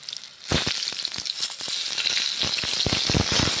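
Eggplant pieces dropped into hot mustard oil in a kadai, a sudden loud burst of sizzling followed by dense, steady crackling close by.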